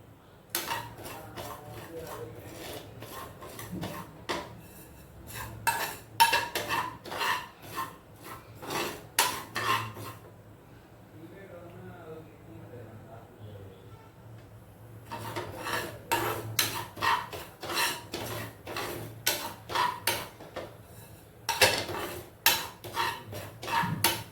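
Poppy seeds dry roasting in a kadai, stirred with a utensil that rasps and scrapes rhythmically against the pan in busy bursts, with a short quieter pause in the middle.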